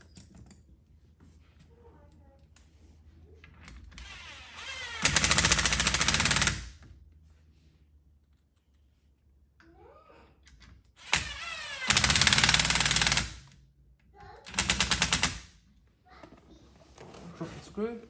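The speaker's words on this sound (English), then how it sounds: "And we can put these screws back now." A power driver runs screws back into trim on a Volkswagen Eos (1F) during a cruise control retrofit, giving several loud whirring bursts of a few seconds each between quieter stretches with someone speaking.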